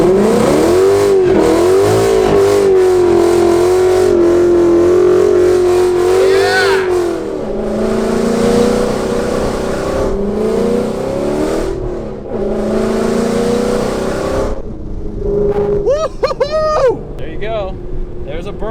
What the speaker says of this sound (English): So yeah, I could do burnouts, and it's got line lock